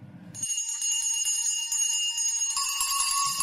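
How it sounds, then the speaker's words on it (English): Several bells ring together continuously, bright and sustained, with a second layer of ringing joining partway through. "Every bell in the house must be ringing."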